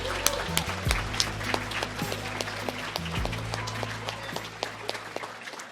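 An audience at an outstanding alumni awards ceremony at North Central College applauds, a steady patter of clapping across the room that carries on throughout, with a voice speaking over part of it.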